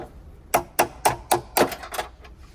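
About six sharp hammer blows strike interior trim of a Volkswagen Atlas in a fairly even rhythm during seat belt replacement, close and distinct, with brief quiet gaps between them.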